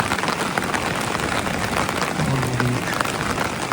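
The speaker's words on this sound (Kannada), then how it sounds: "ಒಂದು ಸುರಿತಾ ಇದೆ ಮಳೆ" Heavy evening rain with thunder pours down steadily, a dense continuous hiss of drops hitting surfaces close by, with no voices.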